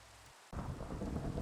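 Rain and thunder from the video game Minecraft: after a brief quiet gap, a heavy rumbling thunder roll swells in with a continuous wash of rain, loud and close, with no speech.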